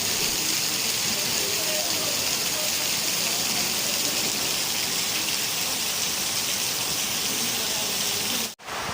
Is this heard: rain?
yes